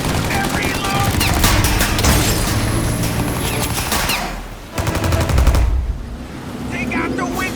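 Turret machine gun in Mafia: Definitive Edition firing long, rapid bursts, loud and close, with a brief lull midway before another heavy volley and scattered shots.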